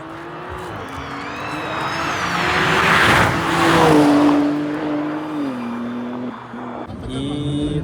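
A 5-litre Ford Mustang does a burnout at a street racing event, its engine roaring and revving steadily with squealing, hissing tire spin that swells and then eases off, loud and fairly close.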